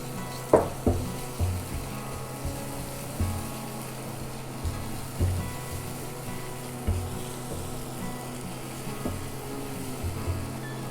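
Onion, garlic and green chili fry in a pan for a pumpkin vorta, with a low steady sizzle and a series of soft, irregular stirring knocks, close and fairly quiet.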